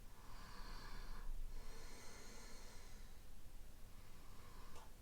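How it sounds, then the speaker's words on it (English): Two slow, deep breaths during a jaw-pain neck exercise, a long airy inhale followed by a long exhale, soft and close with no talking. "a few deep breaths in and out"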